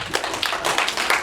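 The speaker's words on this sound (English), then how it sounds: "I want y'all to give a round of applause for every comedian that's been on the stage tonight" Audience at a comedy championship show applauding the comedians, a brief patter of many hands clapping with a faint voice underneath.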